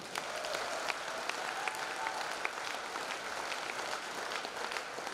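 An audience applauding at a comedy show, a steady wash of many hands clapping at a distance, even and sustained with a few louder individual claps standing out.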